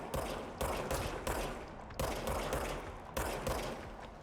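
The transforming revolver in the video game Control fires about nine sharp shots in quick succession, in clusters with short gaps, each a crisp crack with a brief echoing tail, moderately quiet overall.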